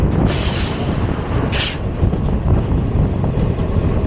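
The Kamban Express passenger train runs from Chennai toward Tiruvarur and Velankanni, heard from on board as a loud, continuous, close rumble of wheels on rail, with a couple of brief hissing surges and no speech.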